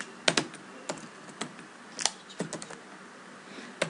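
Router configuration commands typed on a computer keyboard, irregular clusters of crisp close key clicks with brief pauses between bursts.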